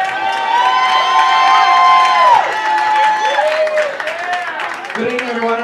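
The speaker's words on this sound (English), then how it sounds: "scream for Kyle and Jeremiah" A pageant audience screams and cheers at an evening gown show, a loud, sustained wave of high-pitched shrieks and whoops that fades slightly, then swells again at the end.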